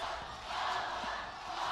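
Dense, steady crowd roar from spectators at the FIBA 3x3 World Cup basketball finals, swelling slightly midway and holding loud and continuous throughout.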